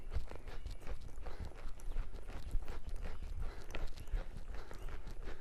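Hooves of a Gypsy Vanner horse thud and clop steadily as the saddled horse moves around loose after bucking and stiffness. Repeated heavy footfalls sound close and continuous over low rumbling background noise.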